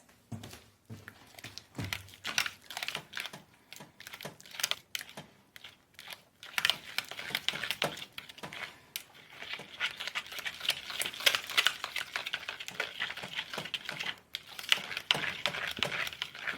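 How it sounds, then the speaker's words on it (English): A whisk scrapes and clicks continuously against a casserole dish while stirring sauce, a faint, busy scratching that grows steadier and slightly louder partway through. "I'm going to whisk this around to incorporate our sauce"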